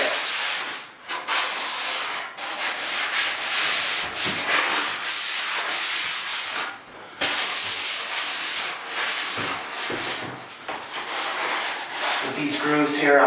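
Varnished wood trim being hand sanded with a sanding sponge, a continuous close, loud, gritty rasping hiss with brief pauses between strokes.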